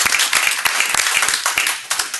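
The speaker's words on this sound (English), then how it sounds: "We need to applaud that one." Brief applause at a board of trustees meeting, a small group's clapping heard fairly close with distinct individual claps over a couple of seconds.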